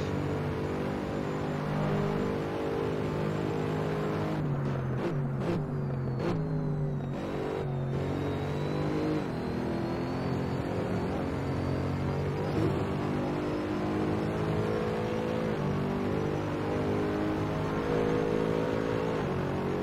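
Mercedes SLS AMG GT3 engine in Assetto Corsa at Monza drones loud and continuous from inside the car, pitch shifting through a downshift and braking sequence midway before holding a steady high roar, with no talking.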